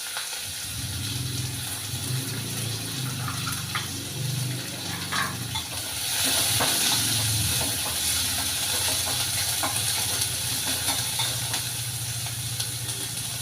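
Dry red chillies and chopped onions fry in a pan with a steady, moderate sizzle and hiss, brightening and growing slightly louder partway through, with occasional stirring clicks.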